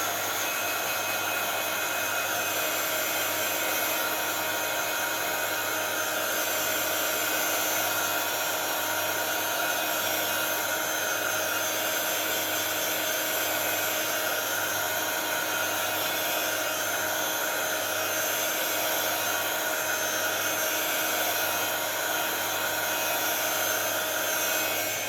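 A hair dryer or heat tool blows steadily on scrapbooking paper, a continuous close whirring hiss with a constant pitch and no breaks, heard alone with no talking.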